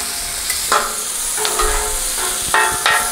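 Pepper steak sizzles steadily on a Blackstone griddle, loud and close, while a spatula scrapes and stirs it in several sharp strokes.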